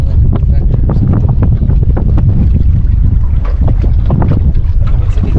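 Strong wind buffets the microphone on a fishing boat out on Table Rock Lake, a loud, constant roaring rumble with gusty bursts and water slapping against the hull.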